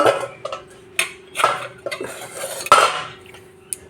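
A metal stand is set down inside a heated pan for baking a cake, making a run of sharp close metallic clinks and knocks with quiet gaps between them. No one speaks.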